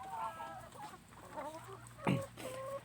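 Laying hens clucking and calling on an egg farm, several short overlapping clucks and squawks close by, moderately quiet with no talk.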